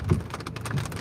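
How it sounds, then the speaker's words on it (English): Heavy rain pours down in a steady hiss, with a low thunder rumble underneath, no talking. "Even in the midst of it pouring down rain, thundering,"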